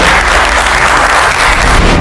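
Studio audience on a culinary reality show applauding a contestant, a loud, dense, sustained burst of clapping filling the whole moment with a low rumble beneath it.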